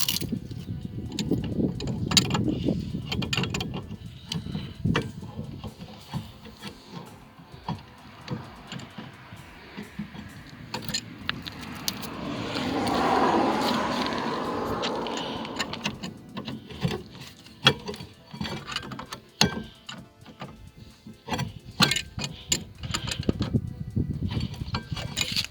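A hand tool works a bolt loose during a brake pad change, making a stretch of ratcheting, grinding mechanical noise with clicks and scrapes, heard up close and with no talking.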